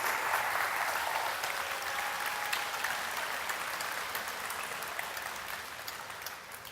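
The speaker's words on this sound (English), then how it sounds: "give those young ladies a warm round of applause." Warm audience applause for a group of young ladies at a ceremony, a steady crowd clapping that carries evenly and softens slightly toward the end.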